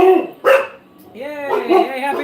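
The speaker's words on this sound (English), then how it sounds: "They're barking because people are shooting fireworks off outside." Dogs give a few short barks and yips close by at midnight on New Year's, reacting to fireworks outside, mixed with excited voices talking over them.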